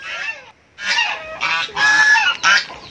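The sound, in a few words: native chickens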